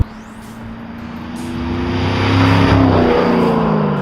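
A car engine fitted with a Sprint Throttle Booster climbs in a long, loud rev, the drone rising in pitch and swelling, then easing near the end, heard close with no talk.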